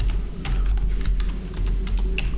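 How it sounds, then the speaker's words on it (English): Fingers type number values on a computer keyboard, quick light key clicks over a loud, steady low hum of background noise, with no one talking. "So you only have to type in some of the values"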